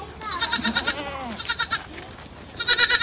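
Goats on a small farm give three loud, quavering bleats in quick succession, close by and clear, with quiet gaps between them.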